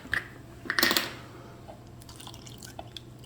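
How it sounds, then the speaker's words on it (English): Milk pours into cooked potatoes for mashing, with a short burst of splashing liquid near the start, then a few faint drips and light taps at close range. "Okay, now I'll add in the milk."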